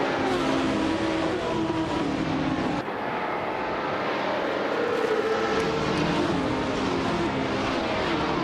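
Engine of a classic 1971 Porsche 917/20 race car in a racing video game at Deutschlandrennen, a loud sustained roar with shifting pitch as it accelerates, alone with no talk.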